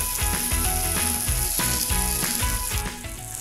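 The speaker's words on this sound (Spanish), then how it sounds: "Doblamos las tortillas y cocinamos hasta crujientes de los dos lados." Filled tortillas with cheese and cooked shrimp frying in a pan until crisp on both sides, a steady close sizzle with crackling pops throughout and no talk.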